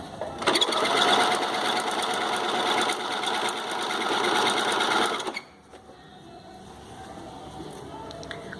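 A home sewing machine stitches bikini fabric for a full-cup bikini, running as a loud, steady, close mechanical whir for about five seconds before stopping abruptly, leaving only quiet room noise.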